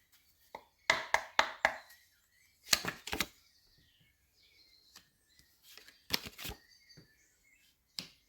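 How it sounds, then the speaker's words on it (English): A tarot card deck is cut and shuffled close by in a quiet room, several short crisp riffling bursts separated by pauses, with no talking. "let's cut the deck and let us begin"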